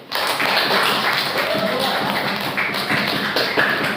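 Dense, steady patter of many hands clapping together, fairly loud and continuous throughout, with a voice faintly mixed in.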